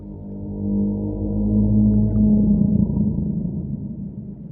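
Rare, dark and ominous underwater ambient sound from the ocean depths in Minecraft, a low droning rumble with drawn-out whale-like tones that swells slowly and stays steady and fairly loud throughout.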